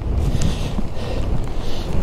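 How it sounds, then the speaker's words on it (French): Strong gusty wind buffeting a microphone outdoors on the way through town, a loud low rumbling roar with brief surges, close and continuous for about two seconds with no talk. "le vent il est d'une force, c'est impressionnant"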